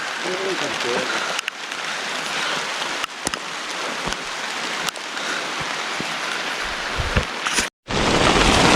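Steady heavy rain falling in a mountain forest, a loud continuous hiss with a few sharp drips and a brief dropout near the end; faint voices may sit underneath.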